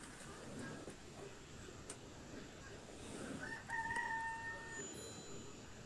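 Chickens murmur and cluck softly in a clay-and-straw coop amid low background noise, while a rooster crows faintly from a distance partway through.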